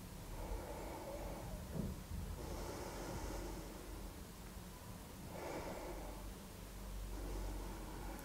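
Slow, deep breaths drawn in and out through the nose during a vinyasa yoga practice, soft airy swells rising and falling twice over a hissy background.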